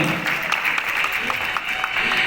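Audience at a district-level seminar in a hotel applauds to welcome a guest, a steady, dense patter of clapping that holds for the whole short span with no talk over it.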